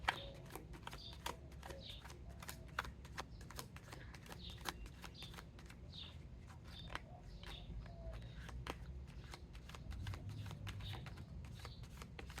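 A deck of angel cards is shuffled close up, with quick rhythmic riffling flicks repeating throughout at low volume, with no talk.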